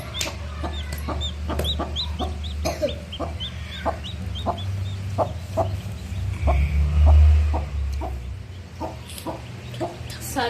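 A hen clucks close by while her chicks, including a white one, give repeated high, rhythmic peeps throughout, over a low rumbling background.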